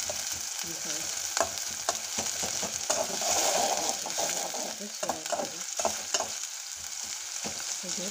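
Onion, green chili and garlic frying in a pan, a continuous close sizzle under frequent rhythmic scraping and stirring strokes, fairly quiet overall with no speech.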